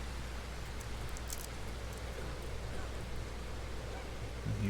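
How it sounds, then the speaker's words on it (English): Steady rain pours in the survival horror game Darkwood, a dense, even hiss that holds for the whole stretch with no breaks, at a constant moderate level. "why does it have to rain so much in this damn game?"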